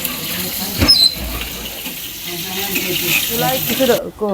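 Sausages sizzling as they fry in a pan, a thin steady crackle and hiss heard beneath a person talking, with a short clink near the start.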